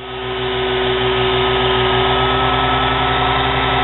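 A small 110-volt nano lathe motor runs with a steady low drone and a faint rhythmic throb, labouring at slow speed, continuous and close.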